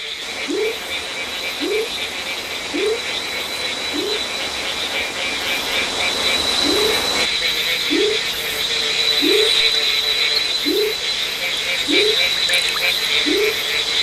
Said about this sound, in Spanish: Tres especies de ranas, desde una del tamaño de un frijol grande hasta otra del tamaño de un aguacate